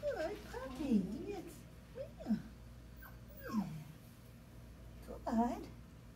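A puppy whimpers and lets out short yips in a few separate bursts, close by, with a person speaking warmly over and between the sounds.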